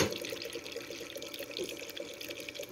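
Water poured into a container while making Korean radish water kimchi, a steady splashing trickle that stays loud and close throughout, with no talking.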